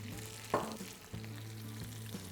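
Ingredients for kara kozhukattai fry in a pan with a quiet, steady sizzle, broken by two scraping stirs near the start and the middle.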